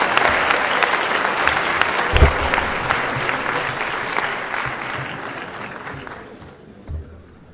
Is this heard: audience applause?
yes